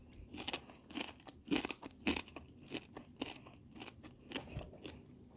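Crunchy chicharrones being chewed up close, a quick irregular series of sharp crackling bites and crunches with no talking.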